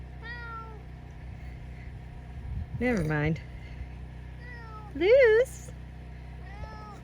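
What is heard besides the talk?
cat meowing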